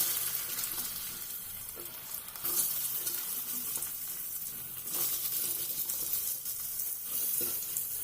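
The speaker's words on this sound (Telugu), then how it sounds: "ఈ ముక్కల్ని దాంట్లో వేసి మనం అయితే ఫ్రై చేసుకోవాలి" Boiled, cut potato pieces fry in hot oil with a steady, bright crackling sizzle that swells and eases at moments, as if stirred, with no voices.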